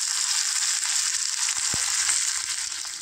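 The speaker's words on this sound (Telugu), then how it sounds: "పోపు వేయడం ఫ్రెండ్స్." Curry leaves and dried red chillies sizzle in hot oil as a tempering, along with cumin, chana dal and mustard seeds. A loud, steady hiss runs throughout, with a brief low knock partway through and no voices.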